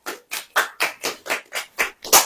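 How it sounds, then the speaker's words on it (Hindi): A congregation at a church sermon claps hands in a steady rhythm, about eight evenly spaced claps, close and fairly loud. "ताली बजाइए"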